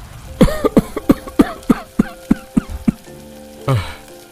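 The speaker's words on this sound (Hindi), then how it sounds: "मुझे भी बहुत खांसी आ रही है" A run of about ten sharp coughs in quick, steady rhythm, close and loud, followed by a brief rough throaty burst, in a smoky kitchen in a cartoon.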